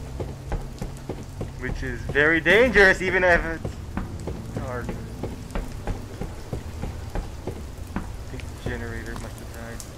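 Rain falls steadily outside in the horror game Fears To Fathom – Ironbark Lookout, a continuous patter with scattered footstep-like knocks, while someone talks over it in bursts.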